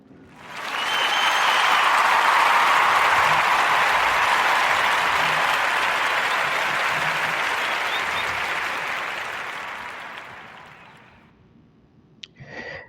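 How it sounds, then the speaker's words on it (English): A warm round of applause from an audience swells quickly, holds steady and loud for about ten seconds, then tapers away. "we're going to give a warm narrative round of applause to all the businesses that I covered in the highlight section"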